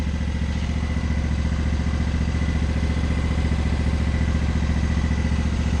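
A Yerf Dog go-kart engine with a loose muffler runs steadily at close range, a loud, continuous rattling drone with a metallic clatter and no pauses.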